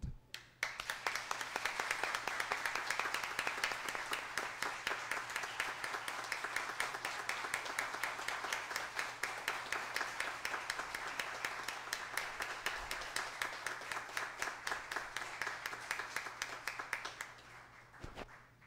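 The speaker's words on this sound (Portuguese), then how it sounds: "eu gostaria de pedir a todos aqui uma salva de palmas ao doutor Morgado" Audience applause during a formal solemn session, a long stretch of sustained, rhythmic clapping from many hands in a hall, steady and moderately loud for about seventeen seconds before stopping.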